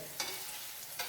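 Burgers sizzle and fry in a pan with a steady crackling hiss, broken by two brief scraping bursts as the patties are moved around.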